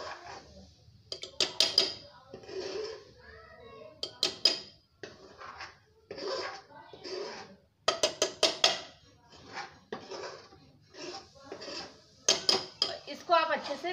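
A metal spoon stirs spice paste into boiled kidney beans in a pressure-cooker pot for Punjabi dhaba-style rajma. The sound is a close, irregular series of clanks, scrapes and clinks against the metal, coming in short rhythmic bursts.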